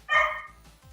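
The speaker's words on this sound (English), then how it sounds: "What is she barking at?" A female dog lets out a single loud, close bark with a short tail, and there is no talking during it.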